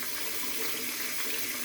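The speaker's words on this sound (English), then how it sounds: "I could easily rinse it now." Water runs steadily from a tap to rinse a Merkur 34G safety razor, a continuous close splashing hiss with no pauses.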